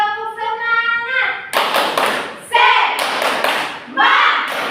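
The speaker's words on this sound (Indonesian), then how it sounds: "Ibu hitung 1, 2, 3, tepuk semangat." A class of children claps a spirit cheer in loud bursts of rhythmic hand claps and thumps, after a drawn-out voiced call at the start.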